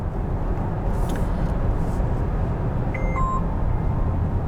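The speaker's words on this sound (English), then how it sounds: "When you brake, when you turn it off manually, it beeps like that." Inside a Polestar 4 electric car, a short pair of clear electronic beeps sounds as self-steering is switched off, over steady road and cabin rumble.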